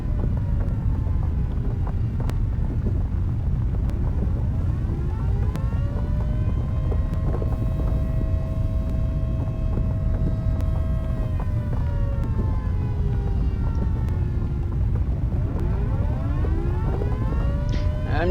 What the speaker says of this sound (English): I like how the surface siren can be heard down here.